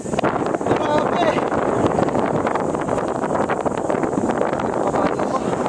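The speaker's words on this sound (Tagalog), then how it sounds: "Ang mahangin pa!" Strong wind roars steadily at the Monte Cristo cave site, buffeting the microphone with loud, continuous rushing noise for the whole stretch.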